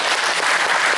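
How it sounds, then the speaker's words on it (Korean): A seated audience at a memorial gathering claps together to welcome guests, a brief dense burst of applause. "자, 우리 다 같이 서로 박수로 환영하십니다."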